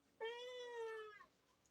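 A house cat gives a single clear, drawn-out meow lasting about a second, close by and alone in a quiet indoor room.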